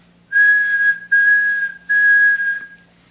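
A person whistles three long, steady, high notes in a row, imitating a train whistle, with short breaks between them.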